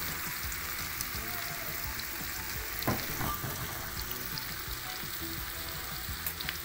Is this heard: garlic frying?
yes